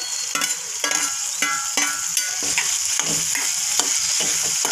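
Chopped tomato going into well-browned onions in a hot pan for a cauliflower and peas sabji. It gives a loud, steady sizzle with repeated scraping stir strokes, close up and with no talking.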